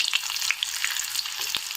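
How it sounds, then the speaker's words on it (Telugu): Tempering seeds and finely chopped onion splutter in hot oil for brinjal bajji, a dense steady crackle with sharp pops scattered throughout, close and loud with no talking. "బాగా చిటపటమంటుంది చూడండి."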